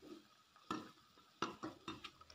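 Two packs of instant noodles go into boiling water in a wok and are stirred, giving several soft clattering scrapes and splashes over a quiet bubbling background, with no talk.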